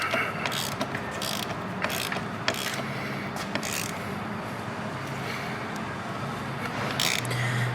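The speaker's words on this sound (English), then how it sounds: "grab our 10mm, tighten the negative side down as well." Quick bursts of ratcheting clicks from a 10mm ratchet tightening a battery terminal nut on a Ford Focus come in short runs against a low background hum, close and fairly quiet, with no talking.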